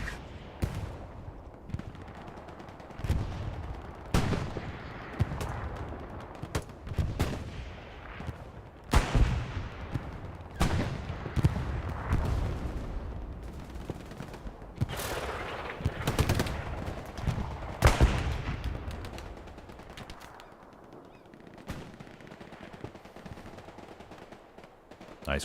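Machine gun crossfire from an MG position in the World War II shooter Hell Let Loose, with dense, overlapping bursts of automatic fire and heavy booming shots rolling continuously through the scene.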